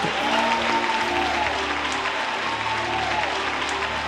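A church congregation at the Igreja Evangélica Congregacional de Bento Ribeiro claps steadily and loudly for the full stretch, a dense even wash of hands with a faint tonal hum underneath.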